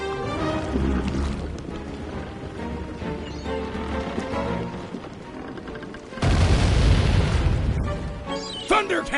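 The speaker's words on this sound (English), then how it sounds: "Thunder cannons!" Thunder cannons fire in Sly 3: Honor Among Thieves, dense booming blasts over continuous game noise that swell into a loud roaring burst near the end.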